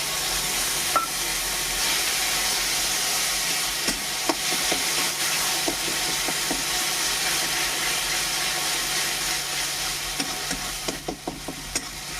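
Water used to wash spices hisses in a hot pan of Bengali cooking, a steady close sizzle broken by scattered stirring clicks, more of them near the end, with no talk.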